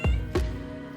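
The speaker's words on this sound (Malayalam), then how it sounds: "പിന്നെ ഹിയർ ഈസ് മൈ പൂച്ച" A pet cat meows twice, close and fairly loud, with a short call near the start and another just before the middle, followed by a brief onset at the very end.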